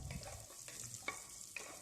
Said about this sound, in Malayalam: ഇവിടെ അണ്ടിപ്പരിപ്പ് മുന്തിരിയൊക്കെ നന്നായിട്ട് തന്നെ വറുത്ത് കിട്ടിയിട്ടുണ്ട്. നെയ്യിൽ തന്നെ വറുത്തെടുക്കണം കേട്ടോ.